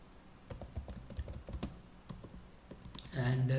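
Markdown text is typed on a computer keyboard in quick, uneven clicks close to the mic, then a voice begins speaking over the last moments.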